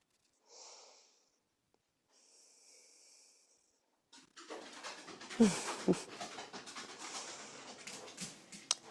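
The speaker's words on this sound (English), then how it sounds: "I have to go back and hear how much you can hear a 75-pound dog tromping down" A large 75-pound dog comes down the stairs indoors: after a few faint hissy sounds, close heavy thumps of paws land amid snorting and panting breaths that fill the second half.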